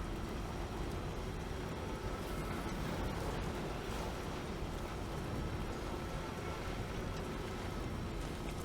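Steady rain falls in the video game Death Stranding 2, a continuous even hiss without pauses and no talking.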